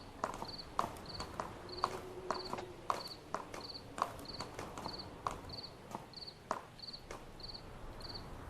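Horse hooves clip-clop in a steady walking rhythm inside the video game Stars End, with a crisp repeating chirp like crickets running alongside and a faint low hum underneath.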